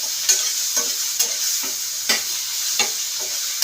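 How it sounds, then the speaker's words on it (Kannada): Onions frying in a pan, a steady bright sizzle with periodic scrapes and stirs of a spoon every half second or so, close and alone with no voices. "ಈರುಳ್ಳಿನ ಫ್ರೈ ಮಾಡ್ತಾ ಇರೋದು ಇದು ಆಗ್ತಾಯಿದೆ."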